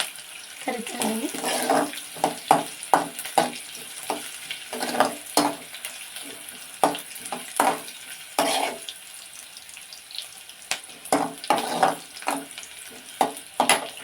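Sprouted green gram frying in a little oil in a pan, with a soft continuous sizzle broken by repeated sharp scraping and stirring strokes in an irregular rhythm, close and fairly clear.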